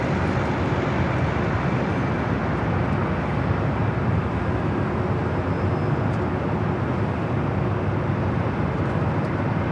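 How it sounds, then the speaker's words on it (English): A Japan Airlines Boeing 787-9 Dreamliner taking off at Los Angeles International Airport, a loud, steady, broadband jet roar that holds evenly for about ten seconds with no voices. "Japan Airlines Flight 61 heading to Tokyo Narita, 787-9 Dreamliner, also heading over here"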